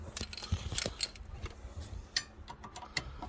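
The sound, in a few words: brake caliper sliding off rear disc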